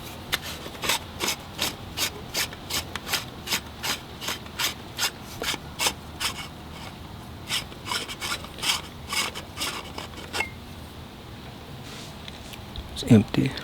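The barrel of a grease gun is unscrewed by hand, a quiet, close, regular series of short ratcheting rasps that repeats steadily for several seconds before ending in a brief clatter.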